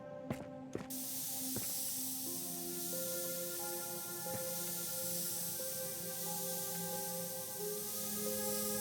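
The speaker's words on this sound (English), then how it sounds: "There's a spray can." A spray can hisses in a crime scene investigation game: a steady, close, continuous spray that lasts several seconds after a few short clicks, with soft tonal background music underneath.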